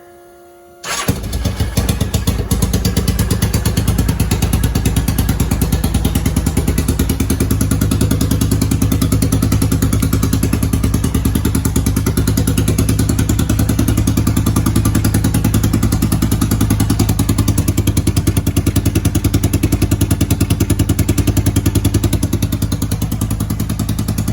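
An engine, temporarily wired up for an oil pressure check, cranks and catches after a second of quiet. It then runs loud and steady with a rough, pulsing idle for over twenty seconds, easing slightly near the end, with no talking.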